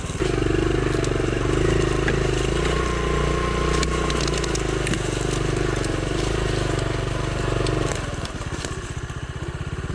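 A small Honda Trail CT70 motorcycle crawling through woods in first gear, its engine a loud, steady low putter close by for most of the stretch, then easing into a lighter, uneven idle-like chug near the end.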